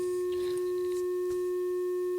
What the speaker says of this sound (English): It's a sine tone